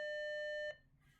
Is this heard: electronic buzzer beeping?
yes